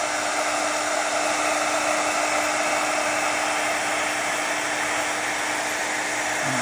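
A heat tool blows a constant, loud, steady whoosh with a faint high whine while melting embossing powder on a craft project, running close and unbroken with no talking.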